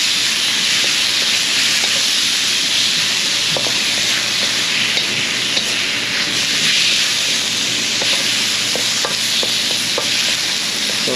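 A large batch of onions fries in a pan with a loud, continuous sizzle and hiss. Faint clicks of stirring come through now and then, and no one speaks.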